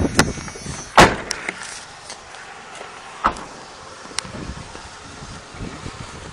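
A door is shut with a sharp, solid thud near the start, followed by a few fainter clicks and knocks of the lock or latch being worked, with wind noise in the background.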